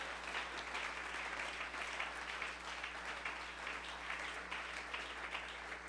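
A church congregation applauding during a sermon, sustained dense clapping that holds steady throughout with a faint low hum beneath, no voices.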